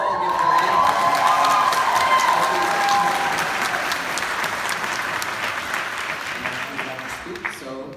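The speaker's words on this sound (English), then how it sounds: "So give her another round of applause." Sustained applause from a graduation ceremony crowd with scattered cheers, loud at first and gradually thinning toward the end.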